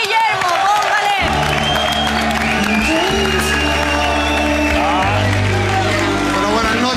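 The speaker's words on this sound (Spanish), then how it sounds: "El aplauso es para el gurú Eduardo" A studio audience applauds and cheers on a World Cup football talk show, the crowd noise loud and sustained beneath music and voices throughout.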